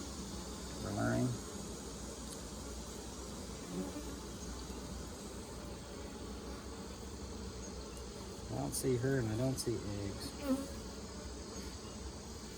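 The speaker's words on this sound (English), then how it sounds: "But we still got a ton of bees in here." Honeybees buzz steadily throughout an open, strong hive, a dense insect hum with a few louder passes near the hive; a person speaks briefly over it.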